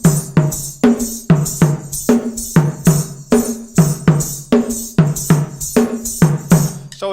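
A Benin-style 12/8 bell pattern is rotated against a foot beat in 8: crisp metallic bell strikes with low thumps repeat in a steady, looping groove, loud and close, with no voices.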